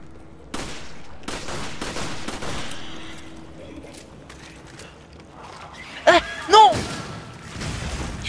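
Gunfire in the co-op shooter Call of Evil 5 on veteran difficulty, with scattered shots and mechanical clatter over game ambience and a couple of sharper bursts near the end, while a player talks over it.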